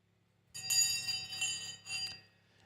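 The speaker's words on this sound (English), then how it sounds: "It's Fisker on the bell" A bell rings loud and close, struck about three times in quick succession with a ringing, sustained tone that fades between strikes, after a near-silent start.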